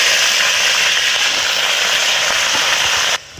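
Pumpkin greens tossed into hot oil tempered with dried red chillies and matar dal sizzle loudly and steadily in a pan, a dense crackling hiss that cuts off abruptly near the end.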